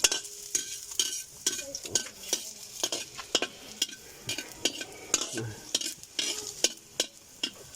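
Garlic frying in a pan is stirred with a small teaspoon, giving rapid, repeated scraping clicks over a steady sizzle, close and fairly quiet.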